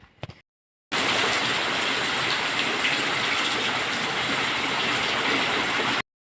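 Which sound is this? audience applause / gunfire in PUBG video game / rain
rain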